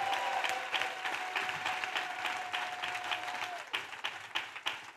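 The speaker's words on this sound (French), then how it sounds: "Clap offering to Jesus Christ." Worshippers at a church conference service clap as an offering to Jesus, a full, continuous round of applause under a steady sustained tone that fades out, leaving looser, scattered claps toward the end.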